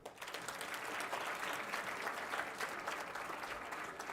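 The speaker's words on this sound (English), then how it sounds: "If you want, you can clap for us." Hall audience at a school of pharmacy induction program claps steadily throughout, a soft, somewhat distant patter of many hands with no one speaking over it.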